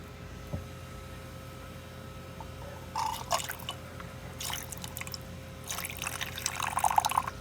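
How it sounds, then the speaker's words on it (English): Distilled water is poured onto a silver bar in a few faint, brief trickles and drips over a quiet background hum. "And let's go ahead and put some water, distilled water"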